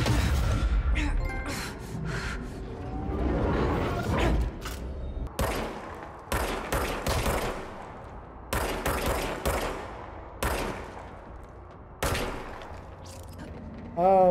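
Gunfire in the game Control: sharp, loud shots in separate bursts, spaced through the stretch over a busy mechanical background, with a brief voice near the end.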